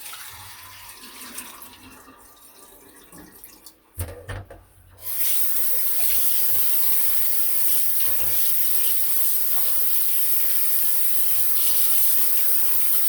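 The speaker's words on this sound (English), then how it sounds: "and rinse the saltfish" Tap water pours steadily into a sink as saltfish is rinsed, starting after some quiet handling and clatter, then a constant loud rushing stream.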